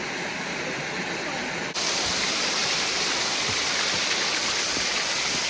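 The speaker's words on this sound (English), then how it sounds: "the waterfall goes up here" Waterfall pouring over slippery rocks near the ruins of an old mill, a steady broadband rush that abruptly swells louder and closer partway through, then holds as a continuous roar with no talk.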